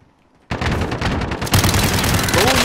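Shotgun blasts ring out in Call of Duty: Modern Warfare after a quiet moment, a sudden loud burst followed by a second heavy shot and ringing gunfire, loud and close.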